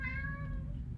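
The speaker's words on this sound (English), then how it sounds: "sorry if you hear my cat meowing." A house cat gives a single short meow, close to the microphone and fairly quiet, over a low indoor hum.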